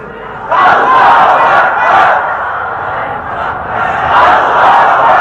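A large crowd at an Islamic sermon gathering shouts the takbir slogan in unison, a loud, sustained massed roar that swells in several waves and stays dense throughout.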